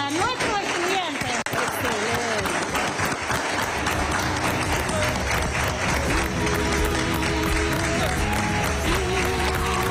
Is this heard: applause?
yes